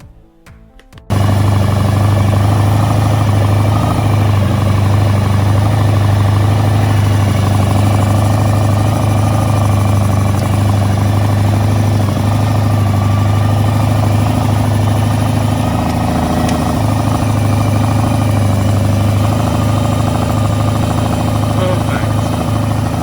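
A 1986 Honda VF1000R motorcycle engine runs steadily during carburettor balancing, a loud, close, continuous idle hum with a strong low throb that starts just after a brief quiet moment and keeps going unchanged.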